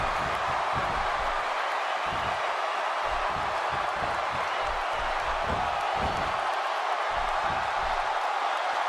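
A large arena crowd roars steadily through a WWE 2K16 Hell in a Cell match between Stone Cold and Cactus Jack, with dense, continuous cheering and occasional thumps from the ring beneath it.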